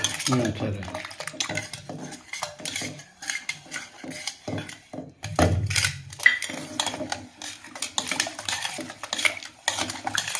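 Metal scraping and clinking of a spoon in a pot as a dry spice powder mixture for horse gram rasam is stirred, steady and close, with brief pauses between strokes.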